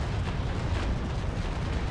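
A sailing warship's broadside of cannons rumbles in the Naval Action game, a dense, continuous roar of overlapping booms and deep low-end thunder across the whole stretch, with no talking.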